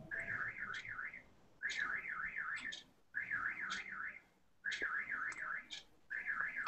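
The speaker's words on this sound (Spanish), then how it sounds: "¿Hay una alarma por ahí?" A car alarm cycles through repeated warbling siren bursts with brief pauses between them, heard faintly from a distance with no talk over it.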